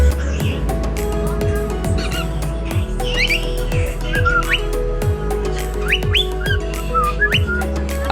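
A pet bird ordered for delivery in Porac, Pampanga calls with repeated whistles and squawks, fairly close and loud, alongside a steady low mechanical hum and rhythmic clicking.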